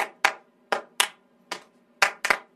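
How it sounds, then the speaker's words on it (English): Single sharp hand claps recorded for a clapping track, about eight crisp, close strikes in an uneven rhythm, two landing nearly together near the end, each with a short ringing tail in a quiet room. "we don't know how long we're gonna do the clapping track"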